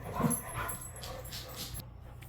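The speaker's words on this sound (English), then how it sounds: "I knew the dogs were going to bark" Dogs bark and whimper at a distance in a quiet indoor setting, a few soft yips and woofs over about two seconds, faint and without talk.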